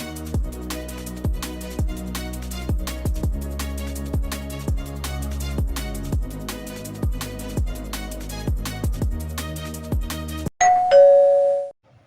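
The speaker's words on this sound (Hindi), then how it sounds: "तो किसी ने बजाया डोरबेल" A doorbell rings out near the end after a long stretch of steady, rhythmic music, its tone clear and sustained, as a postal delivery arrives at a home.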